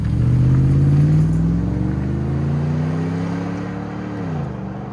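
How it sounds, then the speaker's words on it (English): A 2007 Lexus GX 470 with its 4.7-liter V8 breathing through a Borla ProXS exhaust revs up in a loud, rising drone near the mic, holds a steady higher pitch, then falls back toward idle. "So this one's got a beautiful Borla ProXS on it."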